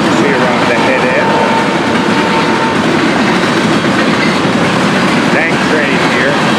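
A freight train with auto racks at the head end rolls past close by, a loud continuous rumble with clickety-clack of wheels over rail joints and faint squeals.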